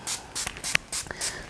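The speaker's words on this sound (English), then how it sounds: "I want to spray my face with the Hibiscus and Witch Hazel toning facial spray by Let's Cosmetics" A facial mist bottle of hibiscus and witch hazel toning spray gives several short, sharp close spritzes in quick succession, each a brief airy hiss.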